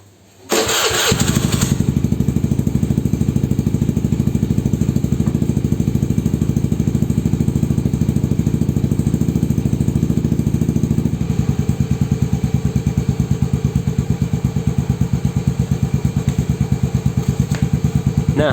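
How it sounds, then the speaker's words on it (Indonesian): An original AHM exhaust on a Honda motorcycle fires up with a sharp start, then settles into a steady, close, thumping idle that runs evenly for the rest of the time, with a slight change in tone partway through. "suara dari knalpot AHM orisinil yang sekarang, yang baru itu seperti ini"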